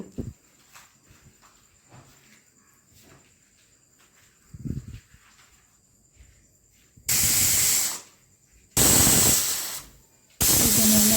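A pressure cooker boiling dal on a gas stove lets out three loud, hissing whistle bursts in quick succession after a stretch of quiet, faint kitchen noises.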